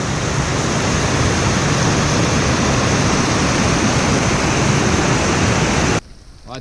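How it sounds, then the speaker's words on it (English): Falls on the Madawaska River in the Highlands, a loud, dense roar of rushing water that holds steady and close for about six seconds, then cuts off abruptly. "Here's more of the falls at Madawaska River."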